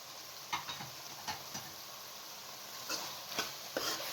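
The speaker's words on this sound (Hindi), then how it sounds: "शिमला मिर्च शामिल करके अच्छे तरीके से आपने मिक्स कर लेना है।" Capsicum is stirred into a chicken and potato curry in a pan, with a constant sizzle underneath and several distinct close scrapes of the spoon against the pan.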